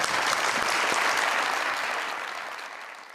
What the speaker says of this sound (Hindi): इनके लिए बहुत सारी तालियां।